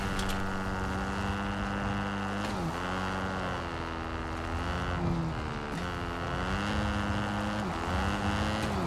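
A motor bike driven in the Fortnite video game, a steady buzzing engine drone whose pitch rises and dips with throttle changes, constant and fairly loud throughout.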